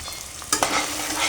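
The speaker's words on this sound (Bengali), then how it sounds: "মশলাটাকে আমি ভালো করে কষিয়ে নেব।" Spice paste of cumin, ginger, garlic, onion and dried red chilli sizzles in hot oil in a pan, a steady close frying hiss broken by a couple of scraping stirs.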